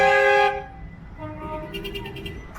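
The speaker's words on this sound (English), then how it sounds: "The tram started tooting" A tram sounds its horn in a lively Saturday-night seafront street in Blackpool: a loud tonal blast that cuts off early, then quieter horn toots and street bustle carry on beneath it.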